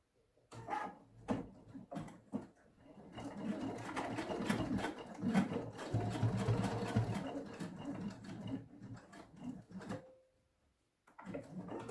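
A sewing machine runs in bursts while stitching a seam on a frasqueira, a small cosmetic case, with short starts and then a long steady run. Brief pauses and quiet handling noises come between the runs.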